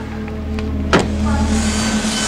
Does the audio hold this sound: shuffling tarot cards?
no